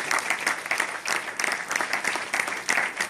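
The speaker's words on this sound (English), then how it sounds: "let's give them a massive round of applause" Audience applause for a group of presenters at a mindset training session, a dense steady wash of many hands clapping at moderate volume, continuing without pause.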